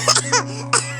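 An elderly woman coughs close by, three short, dry, raspy bursts in quick succession, alone over a low steady hum.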